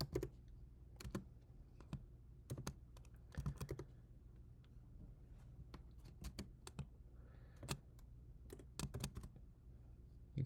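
Java code being typed on a computer keyboard, soft scattered keystrokes in irregular bursts with pauses, quiet and close, with no voices.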